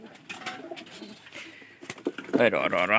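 Rajshahi Giribaz pigeons, a colour-matched breeding pair, coo in a loft, with low throaty cooing swelling loud and close near the end over earlier background voices.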